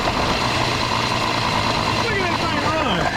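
A 1950s Pontiac engine with two tailpipes runs steadily through its muffler, a dense, continuous rumble close by, with voices talking over it.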